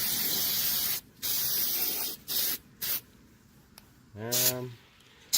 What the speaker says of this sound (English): Go ahead and spray the inside really nice